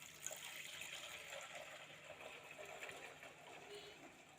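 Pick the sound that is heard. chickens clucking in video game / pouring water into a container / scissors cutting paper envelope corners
pouring water into a container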